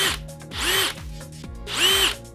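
A DeWalt DCH 133 cordless rotary hammer drills in two loud, close bursts, each a rapid hammering whine that swells and then eases, with a brief lull between them.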